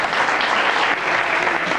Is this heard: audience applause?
yes